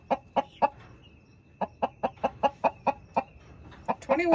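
Chicken clucking in a village yard in Meru, Kenya: a series of loud, evenly spaced clucks close by, a pause, then another rapid run ending in a busier squawk, over a faint steady hum.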